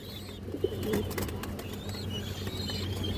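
Pigeons coo softly at a home loft, low repeated calls with a few chirps and light rustling, no talk.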